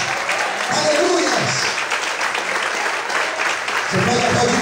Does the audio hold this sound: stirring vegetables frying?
no